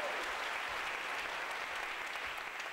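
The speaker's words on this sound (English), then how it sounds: "give yourselves a big round of applause for showing up," Steady, dense applause from a class reunion audience fills the room, loud and continuous throughout with no pauses and no voices over it.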